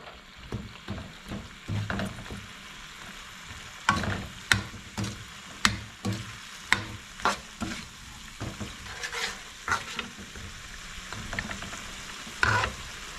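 Spicy eel stir-fry in a pan: a soft continuous sizzle under repeated sharp clanks and scrapes of a spatula, arriving in irregular bursts, close and fairly quiet with no talking.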